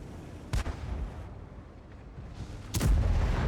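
A 128 millimeter tank gun on a VK 100.01 (P) fires twice in World of Tanks on the Highway map, two loud, sharp booms about two seconds apart over a steady battle rumble.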